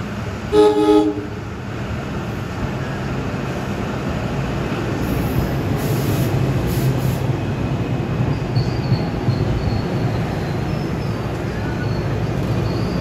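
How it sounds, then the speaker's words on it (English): A short horn toot opens before SEPTA train 3834, a set of GE Arrow electric multiple units bound for New York, pulls away, filling the rest with a steady, close rumble of motors and wheels and faint squeals. "Here's 3834 departing for New York with these beautiful GE Arrow MUs."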